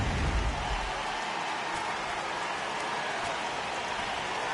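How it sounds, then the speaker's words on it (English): Heavy rain pours in a PS4 baseball video game, a steady, dense hiss that stays loud and even throughout with no voices over it. "Yeah, the rain starting to intensify here. It's coming down a little heavier now."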